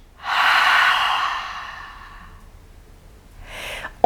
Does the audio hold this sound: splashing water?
no